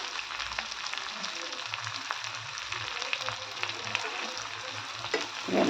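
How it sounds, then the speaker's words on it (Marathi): Chopped garlic cloves and onion fry in a pan with a steady, soft sizzle and crackle, fairly quiet and continuous, with no talking. "छान कलर येईपर्यंत आपण तळून घेऊ"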